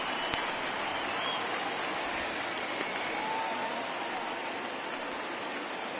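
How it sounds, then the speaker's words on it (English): A broad, continuous roar from a baseball crowd at Guaranteed Rate Field in a video game holds steady and fairly distant for several seconds, with no clear individual voices standing out. "Crowd getting loud here at Guaranteed Rate Field."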